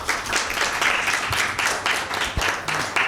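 A studio audience at a Bible quiz show bursts into steady, close applause after a correct answer, with dense clapping that swells and dips slightly across a few seconds.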